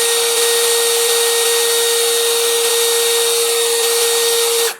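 A Blackfoot 21V PT1211021 cordless impact drill with a 10 mm chuck spins at variable speed 1, giving a loud, steady motor whine with a constant pitch that holds for nearly five seconds and then cuts off.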